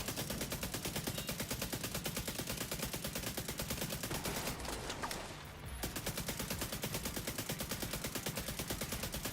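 Rapid submachine gun fire in a video game, with a continuous stream of sharp shots in a fast even rhythm. Firing breaks off for about a second midway, then resumes at the same loud, close pace.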